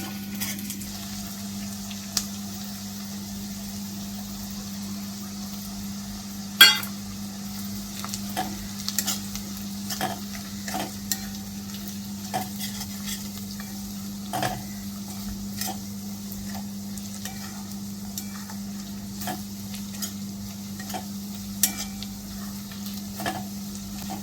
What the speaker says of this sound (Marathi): आता हे मसाले आपल्याला कढईमध्ये घालून घ्यायचे